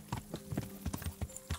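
A horse in the medieval game Kingdom Come: Deliverance walks along a forest path, its hooves clip-clopping in a quick, even rhythm, faint and close.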